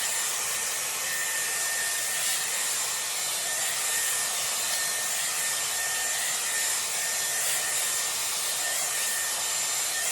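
Dyson Airwrap round brush blow-drying hair at the roots, a loud, constant airflow roar with faint brushing rub against hair, no pauses and no voices.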